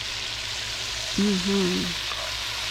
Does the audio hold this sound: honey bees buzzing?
no